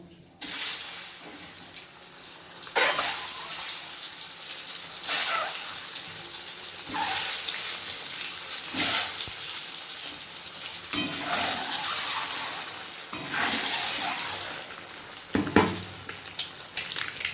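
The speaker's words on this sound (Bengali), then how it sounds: "এবার তেলটা গরম হয়ে গেছে, সামান্য নুন, অল্প হলুদ আর একটু কাশ্মীরি লঙ্কার গুঁড়ো দিয়ে ডিমগুলোকে ভেজে নেব।" Eggs frying in hot oil seasoned with salt, turmeric and Kashmiri chili powder for an egg potato curry. A steady close sizzle with repeated louder crackling bursts every couple of seconds, and no voices.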